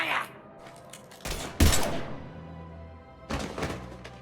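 Gunfire in the sci-fi shooter game Mass Effect 3: two sharp, loud bursts of shots with a heavy thump, separated by quieter ambient game sound and a brief low rumble.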